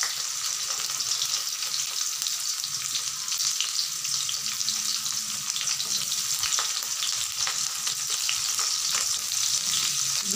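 Garlic and green chillies sizzle in hot oil in a pan, a steady close crackling hiss that runs unbroken throughout with no voices.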